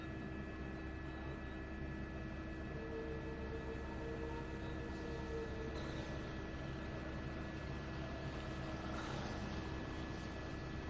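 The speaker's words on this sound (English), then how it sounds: "I hear a chopper, and there's just choppers all over the place." Distant helicopters circle during a police manhunt for an escaped prisoner, giving a steady low rotor drone that runs continuously and faintly under outdoor ambient noise, with no talk.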